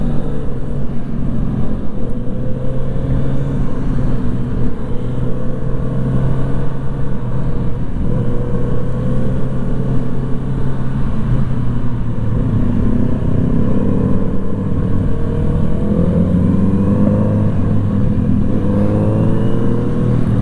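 A Kawasaki Z900RS motorcycle engine drones steadily for the whole stretch on the Interlagos track, its pitch rising and falling as the rider works through gears, loud and close.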